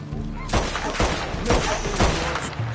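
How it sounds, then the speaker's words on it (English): Heavy bursts of video game gunfire on a PS5 crack out every half second or so, loud and close, over a dense rumbling background. "Can we have one day without gunfire?"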